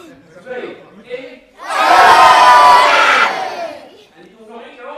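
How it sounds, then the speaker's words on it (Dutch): A crowd at a live badminton event in the Netherlands bursts into a loud roar of cheering and shouting after a countdown, holding for about two seconds before fading back to a host talking. "dat we even mogen gaan juichen"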